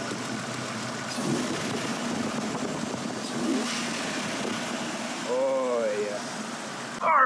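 A Jeep Wrangler engine with a newly installed starter motor idles steadily, swelling into a brief rev, with a short spoken remark near the end.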